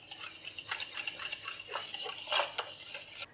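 A spoon stirs cream, yogurt and mayonnaise with black pepper in a bowl for a creamy fruit salad, making quick repeated clinks and scrapes against the dish, close and unaccompanied by speech.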